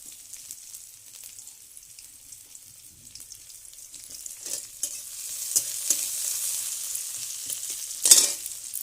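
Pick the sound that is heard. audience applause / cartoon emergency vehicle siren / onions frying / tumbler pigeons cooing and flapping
onions frying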